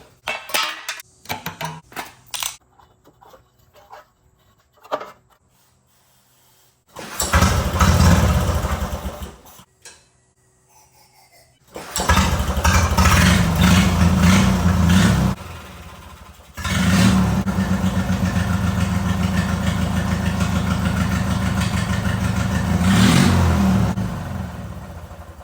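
A 21HP opposed-twin engine on a racing mower sputters through short bursts, then runs and revs loudly in long stretches with a rough, uneven idle, close up and without speech.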